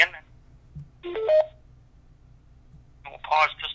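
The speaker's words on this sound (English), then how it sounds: "please signal by pressing star 1 on your telephone keypad" Telephone keypad tones sound during a conference call, short electronic beeps in two separate bursts with quiet line noise between them.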